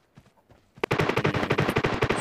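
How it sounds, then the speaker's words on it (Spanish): Rapid automatic gunfire from PUBG Mobile in war mode, a few faint distant shots first, then a loud sustained burst of rattling machine-gun fire filling the rest of the moment. "Escucho disparos por allá."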